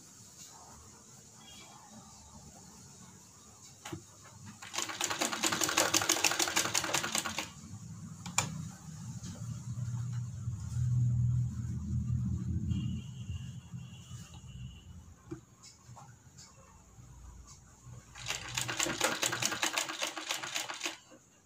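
Sewing machine stitching the sleeve of a kurti, running in two clear bursts of rapid mechanical clatter with a quieter stretch of handling and fabric noise between them, close and alone.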